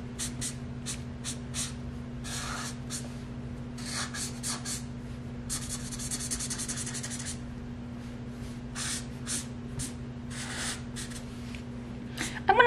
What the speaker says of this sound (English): Take those and just color in the dark parts of Penguin's body.